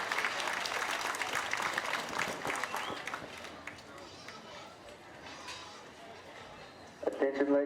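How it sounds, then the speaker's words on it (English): Audience applause for Berkshire gilt exhibitors at a junior livestock show, clapping strong at first and thinning out, followed by a brief burst of amplified announcer voice at the very end. "Let's give these Berkshire exhibitors once again another nice round of applause."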